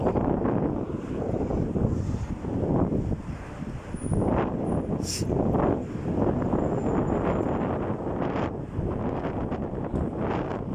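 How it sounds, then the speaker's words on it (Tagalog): Strong wind buffets the microphone in continuous rumbling gusts, loud and close, with faint surf-like wash underneath and no voices, on a street of shops in Salmiya, Kuwait. "Ang lakas ng hangin."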